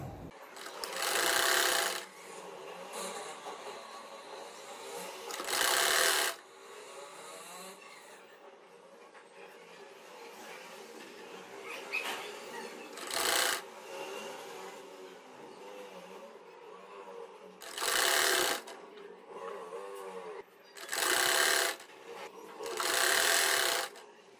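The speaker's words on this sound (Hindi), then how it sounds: "चलिए अब मैं यहाँ पे जल्दी से इसको सिलाई लगाती हूँ" Sewing machine stitching the skirt panels of a baby frock, running in several loud bursts of steady whirring with quieter handling and faint room noise between runs.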